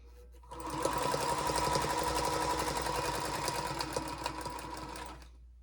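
A sewing machine stitches charm pack quilt blocks in one continuous run, a close, steady mechanical whir with rapid needle chatter lasting about five seconds before stopping.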